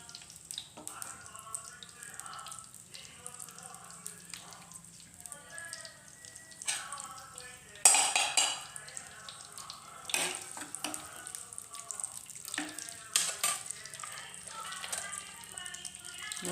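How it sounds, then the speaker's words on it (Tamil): Hot oil sizzles and crackles steadily in a pan, with a louder burst of spattering partway through as cinnamon and cloves are added, while a person talks over it. "அடுத்து பட்டை லவங்கம் போட்டு தாளிக்கணும்."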